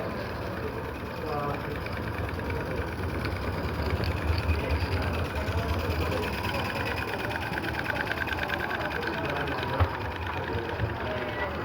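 A model Shay locomotive running with Mapleton Tramway wagons at an Australian narrow gauge convention gives off a steady, fast mechanical chuffing and whirring, close and continuous, with voices murmuring in the background.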